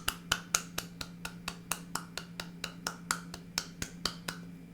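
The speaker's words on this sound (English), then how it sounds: "I'm going to clap." A single person clapping hands steadily, about twenty crisp, close, evenly spaced claps with nothing else heard.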